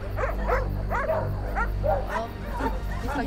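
A pack of at least six or seven dogs barks and yips outdoors by a roadside, a steady overlapping chorus of repeated barks with some whimpering, fairly close and continuous.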